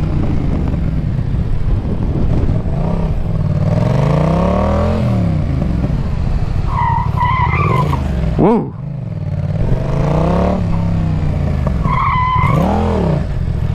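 A Yamaha MT-07 motorcycle engine drones and revs up and down as the rear tyre skids in an attempted drift, with several sharp chirping squeals. A person exclaims briefly over the loud, close engine.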